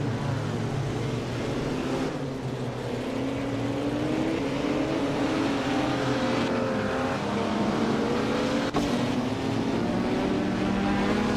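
Several race cars roar past together just after the start of a race, engines whining and shifting pitch continuously in a loud, sustained pack sound without voices.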